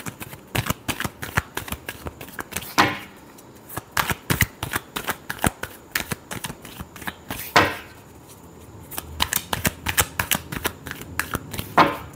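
Tarot cards are shuffled by hand in a steady run of crisp riffling clacks, with a few louder riffle bursts breaking the rhythm, close and clear with no talk.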